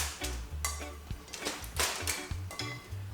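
Oyster mushrooms tossed into a pan with olive oil: a close run of clattering knocks and scrapes of utensil against pan, fairly quiet and uneven in rhythm, with no talking.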